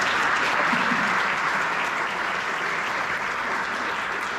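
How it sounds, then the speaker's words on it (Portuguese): An audience at a storytelling talk breaks into sustained applause, a dense, even wash of clapping from many hands that carries on throughout without pause. "esse é o momento que vocês aplaudem"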